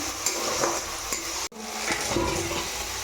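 Ground spice masala sautés in oil in a pan, a steady close sizzle with repeated scraping stir strokes and occasional utensil taps, interrupted by a brief cut in the middle.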